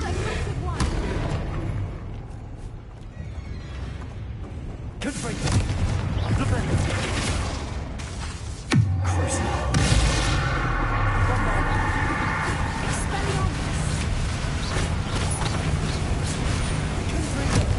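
A Bombarda blasting spell goes off in Hogwarts Legacy, with two loud booming explosions standing out over a continuous bed of game noise, and voices talking throughout.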